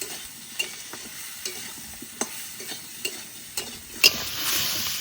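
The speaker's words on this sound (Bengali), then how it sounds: "ঝিঙে বেশি ভাজবো না, আলুর মধ্যে দিয়ে একটু নাড়াচাড়া দিয়ে নিলাম।" Ridge gourd and potatoes are stirred together in a frying pan, spatula scrapes and knocks repeating at intervals over a low, steady sizzle, ending with a brighter hiss.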